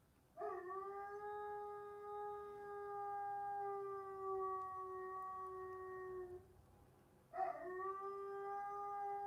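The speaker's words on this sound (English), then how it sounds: "Can y'all hear my dog?" A dog howls in a long, sustained wail that holds for several seconds, pauses briefly, then starts again, clear and fairly close.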